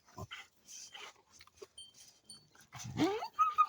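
A purebred dog makes scattered soft vocal sounds, small whines and a rising yelp near the end, close by amid quiet shuffling noises.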